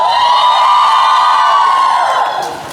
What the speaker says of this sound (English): Let me hear how loud you can cheer for yourselves.